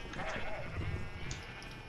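Minecraft sheep bleat quietly over steady background noise in a survival game, with a murmur of voices mixed in.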